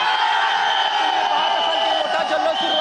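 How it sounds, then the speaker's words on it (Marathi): Large crowd of Indian cricket fans celebrating India's T20 World Cup win over New Zealand, a dense, steady roar of cheering and shouting voices that fills the whole moment without letup. "मोठा जल्लोष सुरू आहे, भारताचा हा मोठा विजय आहे।"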